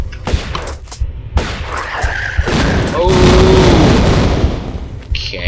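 Shotgun blasts in the Tomb Raider: Unfinished Business level Atlantean Stronghold, loud booming game gunfire mixed with sharp bursts and rumbling effects, fairly close and continuous.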